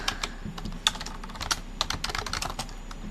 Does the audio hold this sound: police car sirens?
no